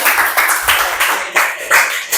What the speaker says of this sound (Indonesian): Tepuk tangan buat Dava.